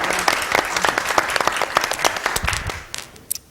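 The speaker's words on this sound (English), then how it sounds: "I think we can give him a round of applause." A burst of applause from a group at a panel discussion, many hands clapping steadily and fairly loud, thinning out toward the end with a few last claps.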